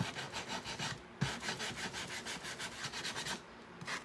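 Wood sign rubbed by hand in quick back-and-forth strokes, a close, rhythmic scratchy rasp with a brief pause before the strokes resume.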